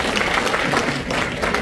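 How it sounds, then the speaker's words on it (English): A room full of people applauds the speaker's assistant during a MIDI patching demonstration, a dense, steady wash of many hands clapping that carries on without a break and with no speech over it. "can you give a round of applause to her?"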